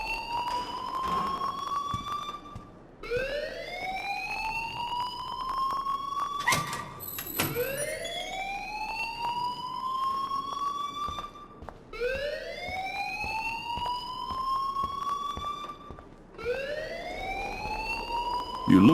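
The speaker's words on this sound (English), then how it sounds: "please turn off that alarm since that's your job" A repeating rising-and-falling alarm wail sounds in the video game Life Is Strange, sweeping up in long cycles roughly every four seconds, loud and steady with a brief sharp clatter partway through.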